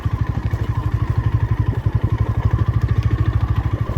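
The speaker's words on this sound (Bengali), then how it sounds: "এই যে অফ রোডে যে গাড়িটা নিয়ে চলছি, বাইকটা নিয়ে" A motorcycle rides along an off-road track, its engine thumping in a fast, even pulse close by with a steady clattering rhythm and no talk.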